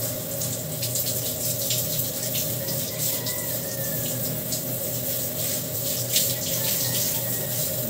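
A tap runs steadily while a dog is being bathed, a constant splashing rush of water that stays loud and even throughout with no talking.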